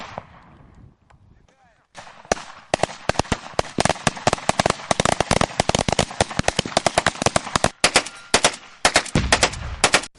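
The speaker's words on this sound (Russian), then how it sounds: "для чего было использовано не только автоматическое оружие, но и дымовые шашки и взрывные устройства" Automatic weapon gunfire during a staged attack on a communications post, with smoke grenades and explosives, a loud rapid rattle of bursts after a quieter opening, ongoing with brief pauses throughout.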